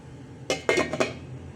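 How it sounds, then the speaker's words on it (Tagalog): A metal lid clatters onto a cooking pot of salmon-head sinigang, a couple of quick clanks and a brief ringing rattle as it settles, close by. "Tatakpan po muna ulit natin to para kumulo"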